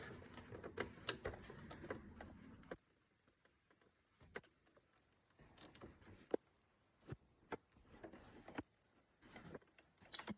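A sewing machine runs briefly and quietly while stitching a clothing seam during a seam repair, followed by scattered soft clicks and mechanical ticks in a hushed room.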